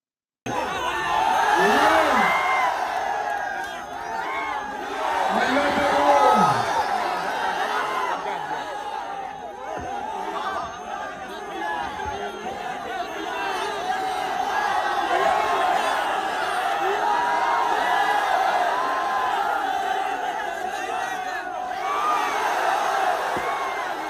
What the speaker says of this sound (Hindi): ऐसा उनकी सभाओं में उमड़ती हुई भीड़ से लग रहा है।